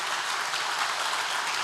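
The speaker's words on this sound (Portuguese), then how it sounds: "aplauda o Senhor bem forte." A church congregation applauds loudly and steadily, a dense wash of clapping that fills the whole moment with no voices on top.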